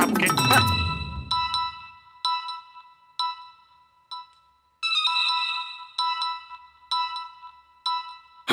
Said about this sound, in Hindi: मम्मी जी का फोन है।